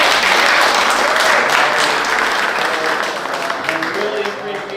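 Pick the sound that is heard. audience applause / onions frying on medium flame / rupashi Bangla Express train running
audience applause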